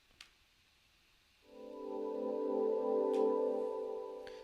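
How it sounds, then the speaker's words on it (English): A heavily processed synth pad taken from a sample pack fades in after a faint click and swells into a warm, sustained chord that holds steady and loud, with occasional soft ticks above it. "Next is a pads that I found from a sample pack and just played around with it heavily"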